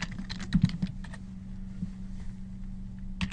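Quick bursts of typing on a computer keyboard, close and crisp, with clustered key clicks, a pause, then a final keystroke over a low steady hum.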